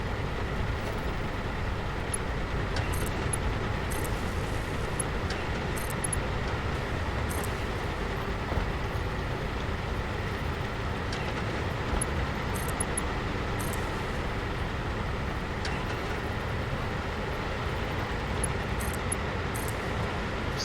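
Fuel generators in the video game Satisfactory starting up and running in the desert, a steady, loud, dense rumble like idling trucks that holds evenly throughout with no pauses.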